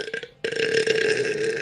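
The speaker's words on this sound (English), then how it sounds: "I'm surprised you're not burping" A loud, drawn-out belch bursts out after a brief quieter moment and rumbles on for over a second, close to the microphone, during a live Ravens versus Buccaneers Monday Night Football watch-along.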